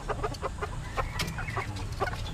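Bantam chickens and a wild junglefowl clucking in a backyard flock, short repeated clucks and calls at close range over a steady low background hum, with no talking.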